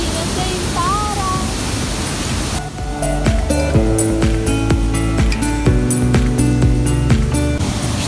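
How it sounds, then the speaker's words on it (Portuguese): A waterfall on a nature trail gives a steady, full rush of falling water for the first few seconds, with a brief voice near the start; music then comes in over the noise and carries on to the end. "Olha a cachoeira aí do outro lado."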